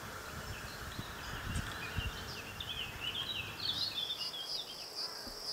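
Insects around flowering melon plants, a faint outdoor buzz and chirring with soft high chirps, bird-like calls drifting in near the end, and a few low thumps.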